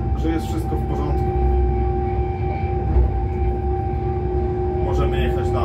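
Train rolling past a trackside railway fault-detection device on a Polish line, a steady, loud rumble of wheels on rails with a sustained tonal hum throughout, heard from close by.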